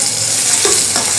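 Onion and tomato sautéing in a pan, a loud continuous sizzle with a couple of brief stirring scrapes partway through, close and alone with no talking.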